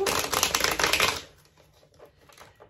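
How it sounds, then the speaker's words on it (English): A deck of cards is shuffled, a brisk run of crisp, rapid riffling flutters that lasts about a second, followed by a few faint soft taps as the cards settle. "Let's reshuffle those guys."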